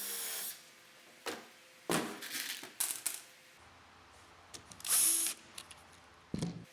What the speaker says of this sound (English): I finish it off with some 1¼ screws